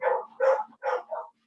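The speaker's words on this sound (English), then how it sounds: "Are my dogs too loud?" Several dogs indoors bark in a quick run of four yelps, the last one softer and higher, sounding close with no talk over them.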